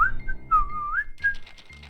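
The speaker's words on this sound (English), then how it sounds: "He whistled to himself, barely looking at the text." Rollo, a character in Beacon Pines, whistles a short, clear wandering tune of a few sliding notes, close and fairly loud, before fading into soft background game sounds.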